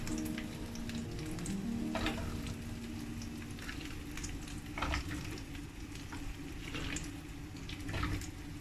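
Okra, or ladyfinger, fries in a pan with a steady close sizzle as it is stirred, giving scattered scraping clicks and soft clatter over the hiss.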